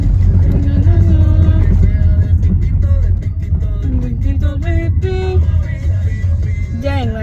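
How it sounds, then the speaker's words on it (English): A car drives slowly around a full college parking lot, its engine producing a steady low hum from inside the cabin while a person talks over it. "Let's drive around for a minute."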